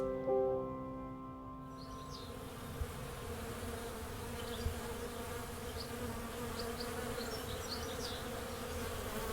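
Honeybees buzz at a beehive on Chicago's South Side in a dense, continuous drone, with individual bees passing near and far over the steady hum.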